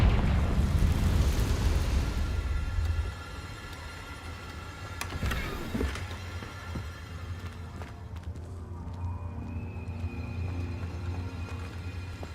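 A Confringo fire spell in Hogwarts Legacy erupts in a loud, rumbling burst that fades over a few seconds. Sharp magical cracks and a softer lingering hum with crackles follow.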